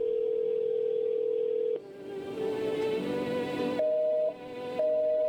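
A telephone dial tone plays during a phone call in the game I Am Not Human, a steady electronic tone that breaks off midway and then returns in short repeated beeps, loud and clear with no talking over it.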